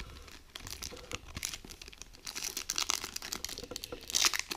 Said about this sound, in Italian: Apriamo la relic.